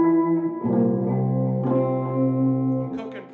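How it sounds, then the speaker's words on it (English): An electric guitar plays through an amp with spring reverb switched on, sustained chords ringing out with a lush, splashy tail, loud and close. "I'm gonna turn the spring reverb on. So I've got a little spring reverb with the amp now."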